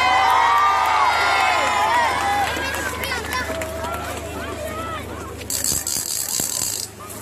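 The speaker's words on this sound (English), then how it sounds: "Please, a huge welcome, lots of cheering" An outdoor gathering in Govan cheers and claps to welcome a young performer at a statue unveiling, a loud burst of voices and applause that tapers into scattered chatter, with a sharper rattle of clapping near the end.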